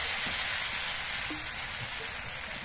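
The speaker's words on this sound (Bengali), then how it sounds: "এই কাপের মধ্যে করে কিছুটা গোলা নিয়ে আমি কড়াইয়ের মধ্যে দিচ্ছি।" Patishapta batter, a thin Bengali rice-flour crepe, sizzles in a hot oiled pan, giving a steady, fairly loud frying hiss that runs throughout with no talking.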